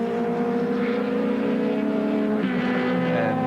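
Touring race cars at Amaroo circuit in 1987, engines roaring loudly and steadily with a sharp pitch drop as one car passes and shifts, several cars sounding together close by.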